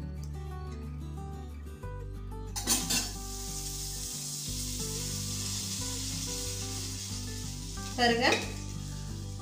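Hot tempering splashes into tomato rasam in a South Indian kitchen, a steady bright sizzle holding for several seconds and flaring into two louder bursts as more is poured, with clinking over a low background hum.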